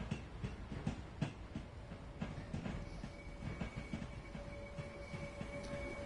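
Train Sim World 4 game audio of a Network SouthEast class 465 electric train running steadily, with rhythmic clickety-clack of wheels over rail joints and a faint whining tone, the sound briefly thinning and cutting out.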